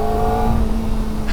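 Kawasaki Ninja ZX-4RR motorcycle engine, a 2024 model, droning steadily at close range with a sustained tonal whine that holds through the short burst without pause.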